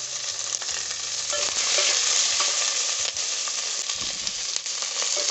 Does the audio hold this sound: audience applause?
no